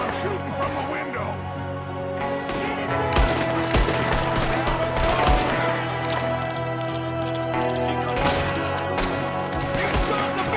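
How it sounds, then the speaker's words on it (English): Gunfire during an ambush in the video game Red Dead Redemption 2, with repeated loud shots and rapid bursts cracking over a dense battle soundscape, while voices shout in the background throughout. "there's another one shooting from the window"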